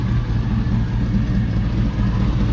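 A 6.0-liter LS V8 swapped into a short-bed half-ton Chevy Silverado with headers and a small exhaust leak, idling steadily with a deep, continuous low rumble, close and loud, with no talk.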